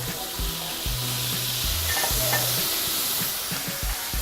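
Oil sizzling loudly in a hot pan, ready for frying snapper fillets, a dense continuous hiss close up with faint clinks of kitchen activity beneath, no talk.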